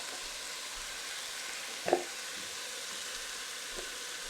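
A pan of pasta sauce with paprika sizzles in a steady, soft hiss, broken by a single brief scrape of stirring and a faint tap later, with no voices.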